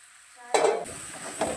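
Pasta tipped into a hot pan and frying, a sudden burst of sizzle after near silence, then a steady hiss with a further stir or scrape, close and moderately loud.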